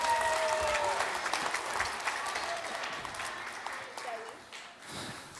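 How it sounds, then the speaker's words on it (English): Audience applause at a Christmas show, a steady wash of clapping from a crowd that thins out toward the end, with faint voices mixed in. "Let's give them a round of applause"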